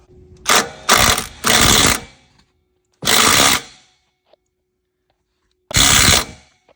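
A power tool tightens a pipe clamp on an LML Duramax truck in a series of short, loud whirring bursts, three close together and two more after pauses, with no talking.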